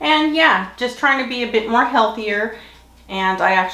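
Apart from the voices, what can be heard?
No everyday noise stands out behind the speech.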